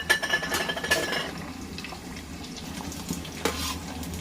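Garlic, mustard seeds, cumin, dried red chillies and curry leaves frying in a pan, with a soft hiss and a few stirring scrapes near the start before it settles into a quiet, low sizzle.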